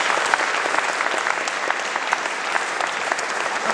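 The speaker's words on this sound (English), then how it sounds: "So, round of applause." An audience at an evening inspiration talk breaks into steady applause, a dense patter of many hands clapping at moderate volume with no voices over it.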